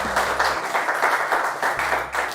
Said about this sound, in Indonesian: kita beri tepuk tangan untuk Cahyana.